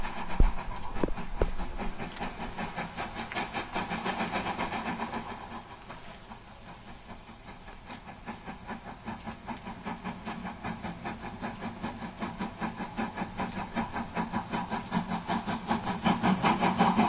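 A steam train hauling 1930s carriages rumbles over a bridge in the Balkans, a continuous rhythmic clatter of wheels on rail joints with a hissing undertone, steady and fairly close with no talk.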